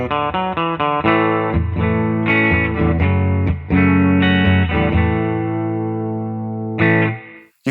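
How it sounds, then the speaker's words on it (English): Distorted electric guitar in the bridge pickup position playing a sequence of chords and riffs, loud and sustained, with a roomy reverb amp tone and ringing decay at the end. "just the guitar into the amp in the bridge position, and it sounds like this"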